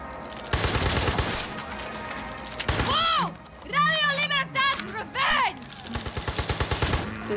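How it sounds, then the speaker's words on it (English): Rapid bursts of gunfire and crashing destruction in Far Cry 6, loud and close, alternating with stretches of game character voices and musical tones in between. "I just start like shooting and breaking shit."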